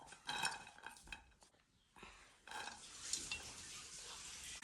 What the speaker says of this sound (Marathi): हितून हांव आतां भाजी घालता